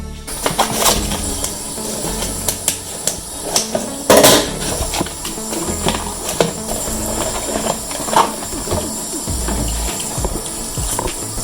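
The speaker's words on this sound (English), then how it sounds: "let's start with washing the steak" A T-bone steak being washed under running tap water, splashing and trickling close by with knocks and clatter as the meat is handled in a sink, and one louder splash partway through.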